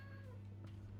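A cat meows once, faint and short, over a steady low hum.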